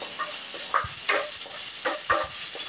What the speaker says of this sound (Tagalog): Gigisa lang natin hanggang sa mag-amoy natin yung aroma ng ginger.